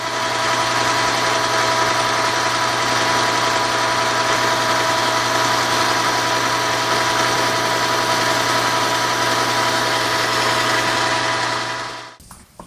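A lathe turns a part to clean up its outside surface, giving a steady mechanical hum and whir at close range that runs unchanged for several seconds before abruptly stopping.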